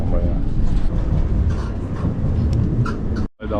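Riding a tram in Gdańsk: a loud, continuous rumble with rattling carriage noise and scattered clacks, running steadily before cutting off abruptly near the end.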